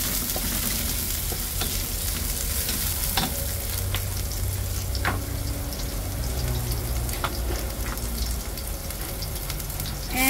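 Ginger sautéing in a hot pan, a continuous close sizzle with a few scraping stirs and occasional spatters, steady throughout with no voices.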